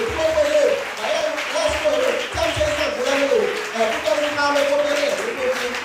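A church congregation at a student gathering in Cotonou, Benin, breaks into sustained applause, steady clapping from many hands filling the room with a voice talking over it.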